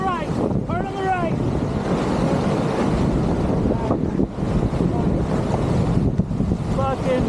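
Raft paddled through Trinity River rapids, with rushing, roaring whitewater and wind buffeting steadily throughout, while people shout loud commands over the noise.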